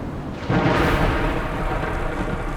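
A heavy rumbling thunder crash from a lightning strike in a horror video game, building suddenly and rolling on as a dense roar over steady rain, with no voices.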